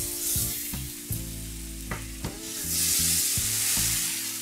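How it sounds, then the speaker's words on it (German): Tomatoes frying in a pan hiss with a steady loud sizzle, broken by a few sharp clinks and scrapes of a utensil stirring, with no talking. "Die Tomaten jetzt so lange braten, bis sie weich werden."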